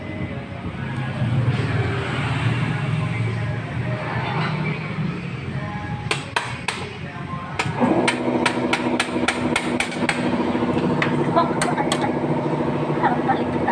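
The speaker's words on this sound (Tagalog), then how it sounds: "Ito na yung martilyo." Hammer strikes on a homemade muffler silencer being assembled, a quick run of sharp metallic blows from about six seconds onward, loud and close over steady background noise, with a voice talking now and then.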